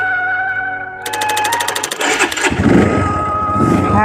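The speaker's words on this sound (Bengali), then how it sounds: "হ্যাঁ, বাইক স্টার্ট হচ্ছে।" A motorcycle engine cranks and catches, a rapid pulsing starter burst giving way to a rough, revving idle at close range, loud throughout.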